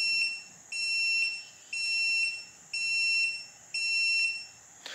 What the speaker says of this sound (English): You're gonna get five flashes followed by five beeps.